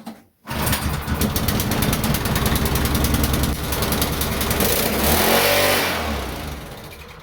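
A Meec SN210 snowblower engine starts with choke and throttle applied, catching quickly and running loudly and steadily, with the pitch rising and falling as it revs before settling near the end.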